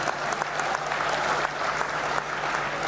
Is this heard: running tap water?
no